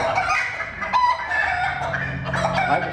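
A young cockerel handled while being prepared for a poultry exhibition, with chickens clucking and squawking in repeated bursts over a continuous barnyard background.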